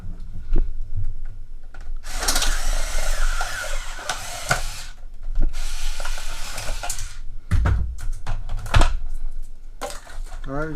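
A Warrior electric power cutter, a Harbor Freight 56192 pair of electric scissors, runs in long buzzing, rasping bursts as it cuts through material, loud and close, with someone talking in between.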